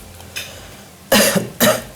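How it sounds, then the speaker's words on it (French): A patient coughs during a medical examination, one short faint cough followed by two louder, harsher coughs close to the microphone, with no talk. "regardez sur le côté et toussez"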